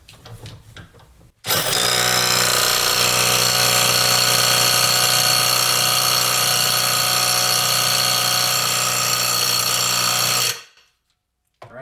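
A Hercules 3/8 inch drive impact wrench tightens a fastener, giving a loud, continuous high-pitched whirring and buzzing close by that runs steadily for about nine seconds and then stops abruptly.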